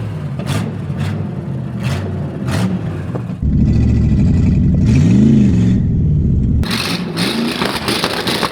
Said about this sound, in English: Is that the burnout? It burns out!